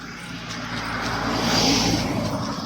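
A jeep drives past on a street while people walk home, its engine noise swelling steadily, peaking around the middle of the pass and staying fairly loud before easing slightly.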